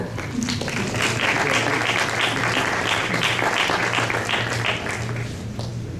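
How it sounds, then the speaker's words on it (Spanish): Steady applause from an audience, many hands clapping in a continuous wash that swells slightly and then tapers near the end. "También un aplauso."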